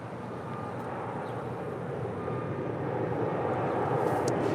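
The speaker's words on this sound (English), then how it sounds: "This is the Korean Air 747-8 heading to SFO. Flight 214 will be taking off on 25 left." Korean Air Boeing 747-8 departing LAX on runway 25 left, its jet engines a broad, steady roar that swells gradually as the aircraft heard at a distance powers up for takeoff, with no voices over it.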